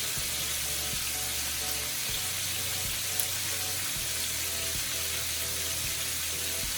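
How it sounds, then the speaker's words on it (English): Chicken fries in hot oil over high heat, giving a steady, close crackling sizzle throughout, with a low pulsing hum beneath. "I'm going to let it fry sort of like on number 8. Because I want this to go ahead and fry."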